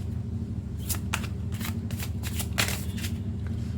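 Tarot cards are shuffled for a pick-a-card reading, giving repeated crisp riffling flutters in an uneven rhythm, close and fairly quiet over a low steady hum.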